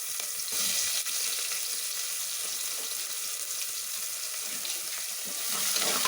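Chopped onions sizzle steadily in a hot pan for sambar, a dense broadband frying hiss holding even throughout with faint stirring beneath, close and alone without voices.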